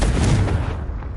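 A Confringo fire-blast spell in Hogwarts Legacy, cast in a cave maze: a loud, close booming blast with a heavy low rumble that decays over about a second, alone.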